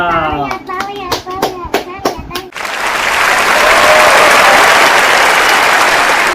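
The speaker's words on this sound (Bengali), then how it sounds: "আমি চ্যালেঞ্জ হেরেছি তালিয়া তালিয়া" Applause after losing an ice block extraction challenge: a dense, loud burst of clapping fills the second half, following a stretch of excited speech.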